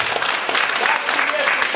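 Dense crowd applause at an Oriflame business gathering in Kotlas, greeting sapphire director Natalya Khvostova; a brief, steady burst of many hands clapping, with a voice talking over it.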